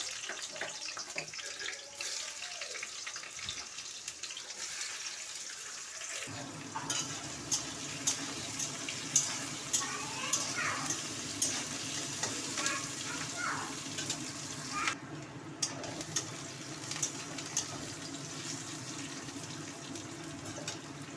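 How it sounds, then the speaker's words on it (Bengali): Onions are added to hot oil in a wok and fry, and a steady sizzle swells after a quieter opening, with intermittent stirring clatter close by and no talking. "কড়াইয়ে তেল দিয়ে দিয়েছি, তেলটা গরম হয়ে গেছে। আমি এবার পেঁয়াজগুলো দিয়ে দেবো।"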